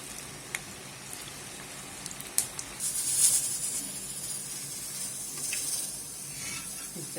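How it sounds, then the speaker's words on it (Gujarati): Wheat-flour chakri fry in hot oil over a lowered flame, producing a steady fizzing hiss with a few sharp pops. The bubbling swells louder for a moment partway through and again near the end. "આ રીતે બધી ચકરી આપણે તળી દઈશું"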